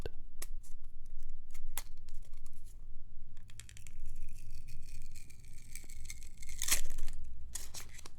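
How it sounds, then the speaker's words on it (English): A small protective seal peels and crinkles off a GoPro Hero camera, close and quiet, with faint clicks and taps, a sustained soft tearing rasp, and a sharp crackle toward the end. "Let's take the little seal off of it."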